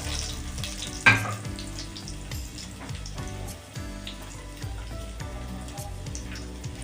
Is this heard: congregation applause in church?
no